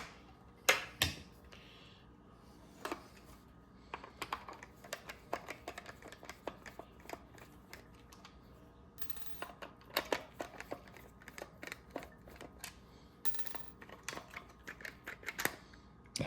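Phillips screws are backed out of a refrigerator ice maker by hand, giving faint, scattered metallic clicks and small rattles. They come in irregular bursts with short quiet gaps, close up and low in level.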